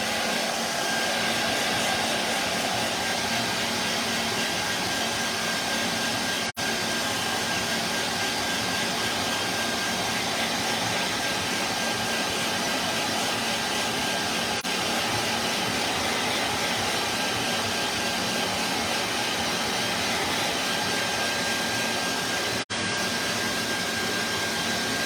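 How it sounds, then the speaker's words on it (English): Hair dryer blowing over a watercolor painting of a haunted house, a steady close whooshing roar of motor and airflow that holds constant for the whole stretch with no talk. "I'm going to use my hairdryer first to make sure that everything is dry underneath."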